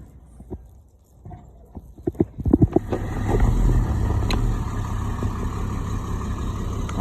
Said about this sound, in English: We got a truck pulling in.